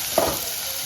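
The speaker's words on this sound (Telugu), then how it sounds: "సాల్ట్, కొంచెం ఆనియన్స్ ఫ్రై" Onions fry with salt in a pan, a short, steady sizzle with a single soft scrape of stirring.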